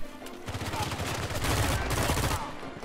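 Rapid automatic gunfire in the video game Uncharted 4: A Thief's End. A dense, loud stream of shots runs for about two seconds, with a few lighter shots before and after.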